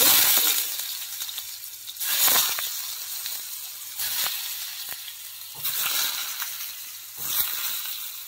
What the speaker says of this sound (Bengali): তেলটা গরম হয়ে গেছে, এবার আলুগুলো একে একে তেলের মধ্যে